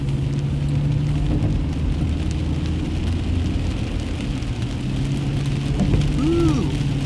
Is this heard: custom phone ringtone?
no